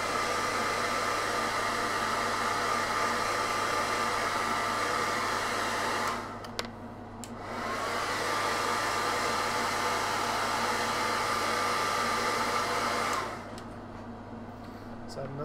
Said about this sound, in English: So just blast this with a hairdryer again.